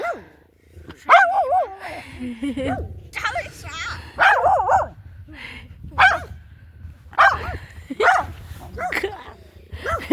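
A dog barks in sharp bursts, some yelping and whiny, with people talking between the barks close by.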